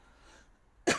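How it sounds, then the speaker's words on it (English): After a near-silent stretch, a single sharp cough bursts out close to the microphone at the very end. "I got a cough."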